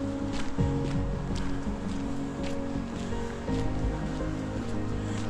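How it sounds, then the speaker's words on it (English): Steady water flow in a park moat in winter, a continuous soft rushing wash under faint rustling, with no voices. "I can hear water in the background."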